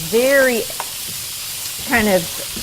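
Garlic sautés in a pan with a steady background sizzle, while two brief voiced sounds rise above it at the start and near the end.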